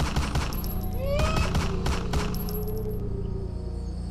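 Shotgun blasts as a sound effect, a rapid cluster of sharp, loud reports with echoing tails over a low droning ambience, fading into quieter rumble at the end; no talking.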